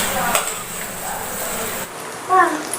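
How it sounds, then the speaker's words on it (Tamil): Chicken pieces fry in oil for Chinthamani chicken, giving a close, steady sizzling hiss with faint pan clatter. A voice briefly cuts in near the end. "இந்த எண்ணெயிலே நல்லா ட்ரை ஆகட்டும்."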